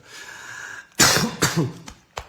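A quiet hiss gives way to a few harsh, close coughs in quick succession, followed by a short final cough.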